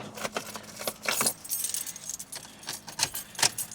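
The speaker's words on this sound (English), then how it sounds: "Oh, took the keys out." A bunch of car keys jingles close by after being pulled from the ignition of a Honda Civic, a few quick bright rattling shakes in a row with no talking.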